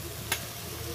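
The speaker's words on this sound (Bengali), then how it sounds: "এখন আমি এর মধ্যে চিংড়িটা দিয়ে দিচ্ছি পেস্ট করে রাখাটা" Prawn paste fries together with dried fish in a pan, producing a low, even sizzle with one sharp tap of a utensil.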